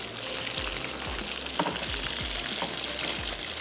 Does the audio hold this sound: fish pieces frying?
yes